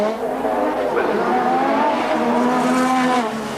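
Formula One cars at the 1986 Australian Grand Prix qualifying, engines screaming at high speed as they pass, a continuous loud whine with shifting pitch and no break.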